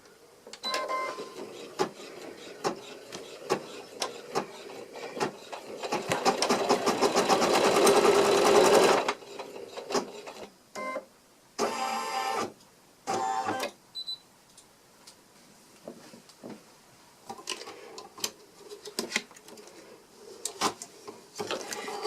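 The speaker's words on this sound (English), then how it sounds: "Press your foot down, and then you're going to stitch." An embroidery sewing machine stitches in-the-hoop napkin rings on a vinyl background with matching thread: short intermittent whirring runs, then a loud sustained stretch of rapid stitching, followed by more brief bursts and clicks.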